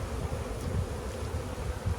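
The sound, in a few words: honeybees buzzing around a hive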